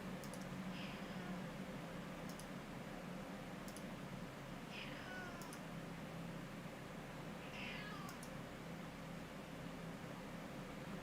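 A cat meows a few times, faint and spaced apart, over steady background hiss with some light clicking.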